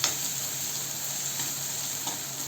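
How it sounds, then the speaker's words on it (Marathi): Chopped onion sautés in hot oil with cumin, kalonji and onion seeds, giving a steady close hiss of frying over a short stretch with no talking. "इथे कांदा आपला परतून झाले,"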